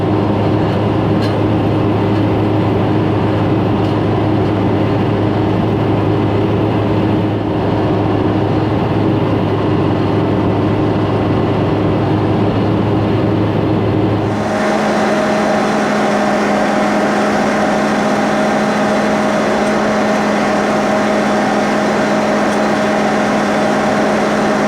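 A tractor engine runs steadily while mowing hay in a field, a loud, close, continuous drone that shifts abruptly to a different, slightly higher hum partway through, with no talking.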